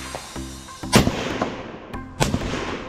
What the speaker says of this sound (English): getting the rifle zeroed in